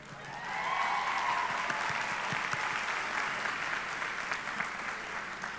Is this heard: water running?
no